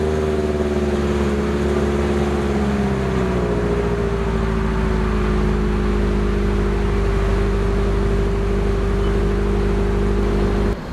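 A supercharged, modified 2017 Toyota 86 engine fires up and settles into a loud, steady idle, its droning tone dipping slightly after the start and holding close and even with no voices.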